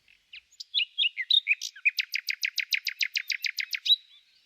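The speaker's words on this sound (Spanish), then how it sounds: "quiero mostrarles cómo es un pajarito ruiseñor" A small nightingale singing alone, a few scattered chirps and then a rapid, even run of bright repeated notes, clear and close against silence.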